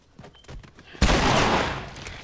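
Gunfire in The Last of Us, a sudden loud burst of shots that erupts after a quieter stretch of rustling and movement, then rings out and slowly decays.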